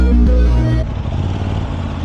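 Motorcycle fitted with an SC carbon exhaust, the engine revving hard at close range with a loud, rasping drone that drops to a rougher, steadier roar after the first second.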